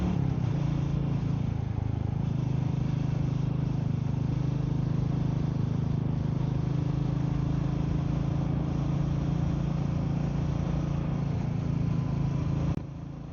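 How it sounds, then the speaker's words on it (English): Royal Enfield 350 motorcycle being ridden on an autumn road, a steady low engine drone with a continuous hum that holds even and close throughout, no talking over it. "I've missed the sound of this bike."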